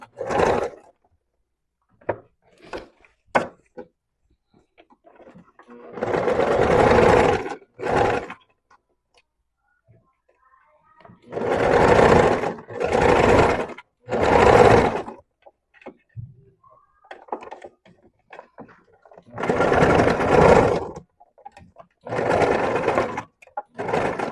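A sewing machine backstitches fabric along a 1 cm seam allowance with pins in place, running in several distinct bursts of rapid whirring stitching separated by short pauses and soft clicks, close and fairly loud with no talking.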